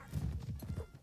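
A horse in Mount and Blade: Napoleonic Wars gallops past in a quick burst of rhythmic hoofbeats, fairly faint amid battle noise.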